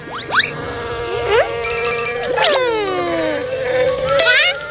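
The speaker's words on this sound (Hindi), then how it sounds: "लगता है कहीं मच्छर बिन बिना रहे हैं, मधुमक्खी बिन बिना रही है" Cartoon mosquitoes and a bee buzz with high, whining tones that sweep up and down in several separate bursts over a steady low background.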